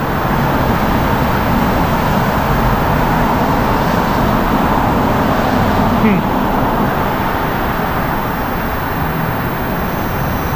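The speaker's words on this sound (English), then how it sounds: "I know there's a lot of traffic and a lot of cars that's driving by." Cars drive by on a busy road at night, a steady roar of traffic noise with passing vehicles swelling and fading, close and loud throughout.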